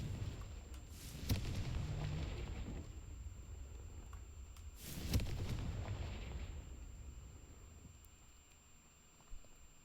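Confringo blast spells go off in a video game as two deep, rumbling booms a few seconds apart, fairly soft and distant, followed by a faint small pop.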